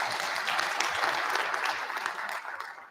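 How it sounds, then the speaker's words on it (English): Audience at a State of the City address breaks into dense, steady applause that holds for a few seconds before tapering off. "Only in this kind of environment would you get applause for talking about bond ratings"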